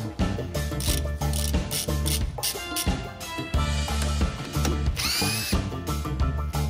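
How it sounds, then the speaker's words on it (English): An impact-style power tool with a 14 mm socket removes a parking brake cable spring clip on a Toyota Tacoma, giving loud, rapid rattling bursts with short gaps between them. "Next, I will be removing the parking brake cable spring clip with a 14 millimeter socket."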